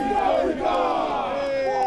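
A stadium crowd at a Hong Kong rugby tens tournament roars and cheers in a sustained wash of voices, with a steady thin whistle-like tone running through it.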